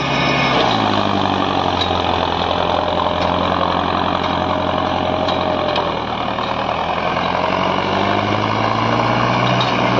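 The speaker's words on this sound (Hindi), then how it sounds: "ट्रैक्टर बंद होने को जा रहा साठ एच पी" A 60 HP tractor engine pulling a 9-by-9 harrow, labouring and close to stalling, a loud continuous heavy drone that sags and recovers in pitch without a break.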